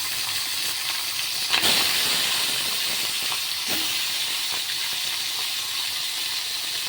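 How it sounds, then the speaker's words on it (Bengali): Parshe fish slides into hot oil with nigella seeds, giving a steady bright sizzle and hiss that flares sharply near the start and stays loud and even throughout. "কালো জিরে দিয়ে দিলাম, মাছগুলো এখানে ছেড়ে দেবো।"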